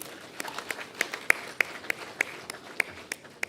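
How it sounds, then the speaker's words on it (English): Sparse applause from a small audience at a public budget presentation: a handful of separate, fairly quiet hand claps land one by one at an irregular pace instead of forming a full ovation. "A round of applause for him, please."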